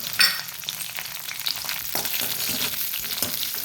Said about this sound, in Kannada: ಬೆಳ್ಳುಳ್ಳಿ ಸ್ವಲ್ಪ ಕಲರ್ ಚೇಂಜ್ ಆಗುವಾಗ ಕರಿ ಲೀವ್ಸ್ನೊಟ್ಟಿಗೆ ಸಾಸಿವೆ ಪ್ಲಸ್ 1 ಚಮಚದಷ್ಟು ಉದ್ದಿನಬೇಳೆ